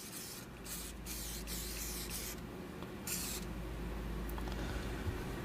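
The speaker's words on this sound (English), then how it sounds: "We'll spray that down, that bolt down really good." Cleaner sprayed onto the bolt of a SIG P320 pistol, several close, loud hissing bursts in quick succession, each a second or less long, with no talk over them.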